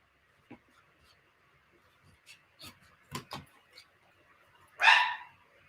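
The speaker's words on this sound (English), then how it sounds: "It's been snowing here, and I think she's barking at the snow." A female pet dog barking at falling snow indoors, a few scattered short barks and yips at a distance, ending in one louder, sharper bark near the end.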